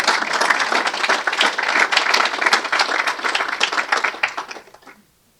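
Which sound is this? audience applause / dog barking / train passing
audience applause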